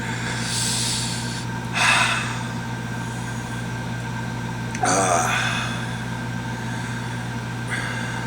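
Heavy breathing from a person after eating a Caribbean Red habanero chili, with two sharp, loud gasping snorts about three seconds apart over a steady low background hum.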